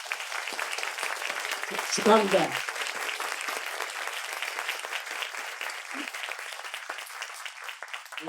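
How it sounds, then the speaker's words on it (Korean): Sustained audience applause at a graduation ceremony for a climate and environment leadership course, steady and full throughout, with a voice briefly speaking over it. "모두 수고하셨다고 서로 한번 박수 한번 크게 한번"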